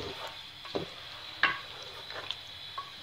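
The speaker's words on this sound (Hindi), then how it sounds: "तो इसे फ्राई कर लेंगे हम दही डाल के।" Chicken karahi gravy with yogurt frying in a pan, a soft continuous sizzle under a few scraping stirs and light clinks from a spoon against the pan.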